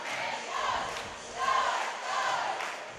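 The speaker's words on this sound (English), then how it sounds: "that's the cheer I was telling you about" A crowd at a high school basketball state championship game chants a rhythmic cheer in repeated swelling phrases, loud and echoing through the gym.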